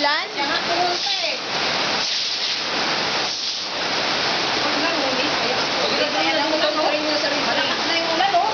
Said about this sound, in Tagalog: Malakas na yung ulan oh.